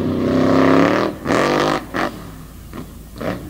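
The FTI Torque Ram monster truck's engine roars and revs hard on a wet track at an all-star championship event, a loud sustained growl followed by several shorter bursts of throttle that fade between pulses.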